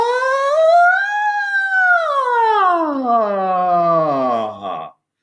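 A singing voice imitates a siren in one long sustained glide, sweeping up from a low note, then drifting down before cutting off, loud and close with no other sound.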